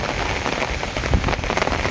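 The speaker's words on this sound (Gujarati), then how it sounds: "આ તો ખુશીની વાત છે કે વરસાદ પડ્યો" Heavy rain pours down in Kodinar town, a loud, steady, dense hiss of drops drumming on surfaces close by, with no voices.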